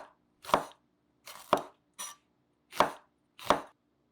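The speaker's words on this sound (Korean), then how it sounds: "청양고추도 똑같이. 난 그냥 고추 썼다." Knife slicing a chili pepper diagonally on a cutting board while preparing pork jjageuri, five crisp, close chops spaced about a second apart, with quiet between them.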